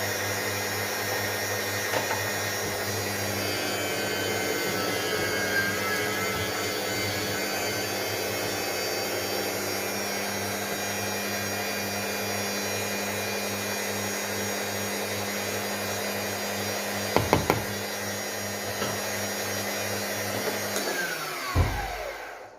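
An electric grater pulps a batch of quinces with a loud, steady motor whine that runs unbroken for about twenty seconds, broken by a few brief knocks near the end before it winds down.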